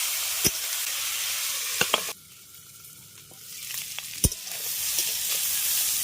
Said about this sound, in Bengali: এবার কাঁকড়োর আর আলুটাকে ভেজে নেব কাঁকড়োর আর আলুটাকে ঢাকা দিয়ে ভাজবে